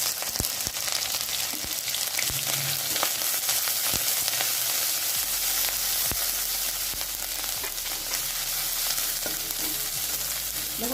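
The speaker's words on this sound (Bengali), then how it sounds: "দেখুন আদাটা খুব ভালোভাবে ভেজে নিচ্ছি" Grated ginger fries in hot mustard oil with black cumin seeds, giving a steady, close hiss and crackle with occasional spoon stirs throughout, no voices.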